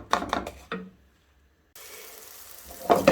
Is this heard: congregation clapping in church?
no